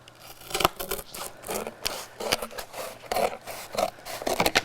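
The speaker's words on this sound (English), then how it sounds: "I'm just going to take a pair of scissors" A pair of scissors cuts the binding off a hardcover book for an altered journal, producing a run of close, crisp snips and scraping cuts at an uneven rhythm.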